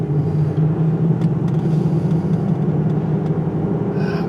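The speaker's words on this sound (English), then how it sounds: "Got some noisy tires on this thing" Steady low rumble of tires rolling on the road under a Ford Edge SUV, a continuous close drone with an even hum and no breaks, heard alone after a rear differential replacement.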